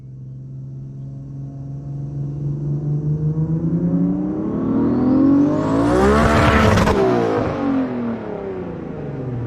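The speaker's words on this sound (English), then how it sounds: "I fired the car up, and it fired up." A car engine fires up after an ECU swap, a rough uneven idle climbing into a loud rising rev that peaks with a sharp burst around the middle, then settles back to a lumpy idle; heard close, with no talking.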